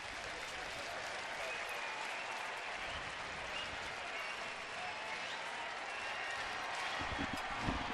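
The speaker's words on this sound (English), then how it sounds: "crowd on its feet, feeling a little excitement here" A baseball stadium crowd applauds and cheers during a New York Yankees at Cleveland game, a dense, steady wash of clapping and crowd noise heard from a distance for about eight seconds, with faint voices mixed in.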